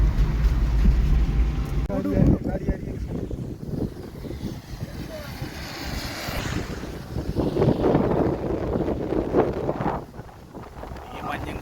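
Wind buffets the microphone in gusty rumbling bursts, rising and falling throughout, with faint background sounds underneath.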